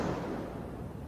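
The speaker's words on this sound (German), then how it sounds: "Diese Explosionen, die kommen vom Turm?" A deep, roaring rumble of explosions at a tower in a German science-fiction radio drama, one sustained booming blast heard up close and loud, with no voices over it.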